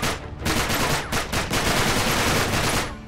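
Rapid bursts of gunfire in the PS3 video game Uncharted 3, loud and close, with sharp cracks repeating in quick succession throughout.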